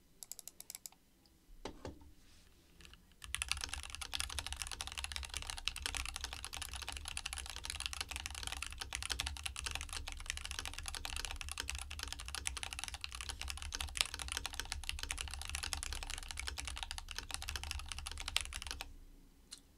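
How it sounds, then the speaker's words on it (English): Rapid, continuous keystrokes on a computer keyboard during a typing test, a dense close-up clatter that runs steadily for about fifteen seconds after a brief quiet start, with no talk. "let's give it a quick typing test before we put the Keebtape on"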